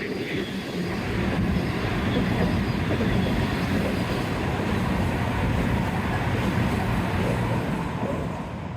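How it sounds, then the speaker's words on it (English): Train rolling past along the Teignmouth seaside, a steady loud rumble and wheel clatter that holds for several seconds before easing slightly at the end. "And here's a train to celebrate."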